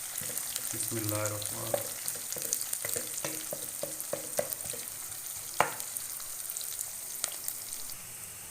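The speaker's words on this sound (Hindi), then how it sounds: "मैंने प्याज डाल दिया है। प्याज को हल्की आंच में ब्राउन करना है।" Chopped onions sizzle steadily as they brown over a low flame in a handi, with scattered clinks and scrapes of stirring on top of the frying hiss, and a voice briefly speaks over it near the start.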